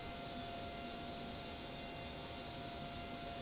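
A DC-8 jet engine spools up during a start in a flight simulator, a steady broadband whine and rumble with a thin high tone, continuous and even throughout with no talk.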